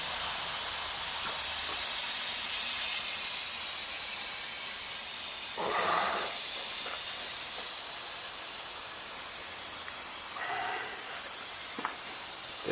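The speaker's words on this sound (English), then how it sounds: "What you hear is the air being discharged through the system." Air discharging through the hydraulic system of an old lumber-yard log stacker, a steady loud hiss throughout with a couple of brief mechanical clunks partway through.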